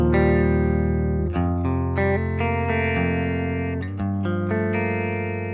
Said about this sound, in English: show you what the amp sounds like on its own. Just the amp, a little bit of spring reverb